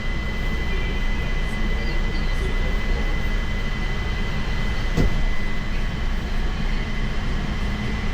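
The JFK Airport AirTrain runs between terminals with a steady low rumble and rolling hum, a continuous even drone heard from inside the car, with one brief click midway and no talking.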